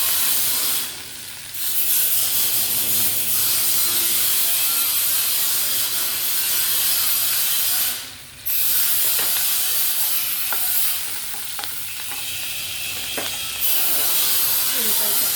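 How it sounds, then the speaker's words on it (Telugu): Loud machinery from nearby welding work runs almost continuously, a harsh grinding, ratcheting hiss that drops out briefly twice, with faint voices underneath. "ఇక్కడ వెల్డింగ్ వర్క్ అవుతుంది, మిషన్లు గట్టిగా సౌండ్లు వస్తున్నాయి."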